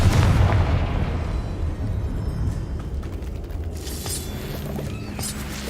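A Confringo fire spell explodes in Hogwarts Legacy, a loud, dense burst with deep rumbling low end that rolls on and slowly fades, while other crackling effects linger behind it.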